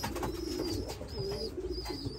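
Young racing pigeons coo in a loft, with soft repeated throaty coos and a faint higher chirp close by, over a steady background hum.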